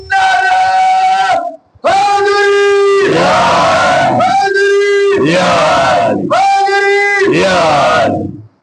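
A large crowd at a Muharram majlis shouts a religious call-and-response chant: a leading voice calls out and many voices answer in unison, loud and rhythmic, repeated several times.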